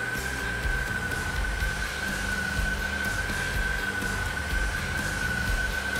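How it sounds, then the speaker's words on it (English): An oxy-fuel torch burning a neutral oxypropane flame, with the fuel gas at or near full flow, gives a steady, continuous roar with a sustained high whistling tone, unbroken and even throughout. "This is what a properly set oxypropane flame looks and sounds like."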